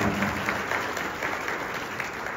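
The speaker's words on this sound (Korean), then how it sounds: "박수 부탁드립니다." Applause from a crowd of students at a high school freshman welcome and appointment ceremony: steady, dense clapping that fills the room and stays loud throughout.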